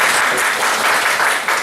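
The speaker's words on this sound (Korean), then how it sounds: "다시 한번 뜨거운 박수" Dense applause fills a university MBA leadership lecture, a brief, loud burst of many hands clapping together with no break.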